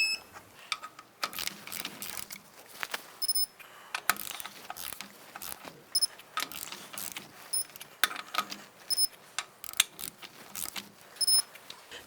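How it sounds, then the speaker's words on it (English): Repeated ratcheting clicks and metallic clacks from a torque wrench tightening lug nuts on a 2004-2012 Chevy Colorado wheel, coming in short bursts with brief pauses between them. "I'm going to go ahead and torque the lug nuts down to 103 foot-pounds"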